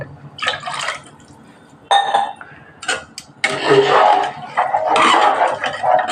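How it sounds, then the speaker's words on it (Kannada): Water poured into a pot of rice and coconut milk for mushroom pulao, splashing and gurgling in bursts over several seconds, close and fairly loud. "2 ಲೋಟ ನೀರು ಹಾಕಬೇಕು."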